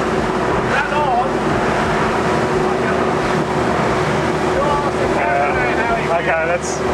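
A Veitch 23 center-console motorboat with trimmed outboard motors runs at 33 knots, its steady engine drone mixed with rushing wind and water noise throughout, while voices talk over it at times.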